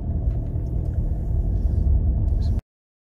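A car pulls away from the kerb on a quiet road during a driving lesson, its engine giving a steady, close low rumble that swells slightly as it moves off, then cuts out abruptly.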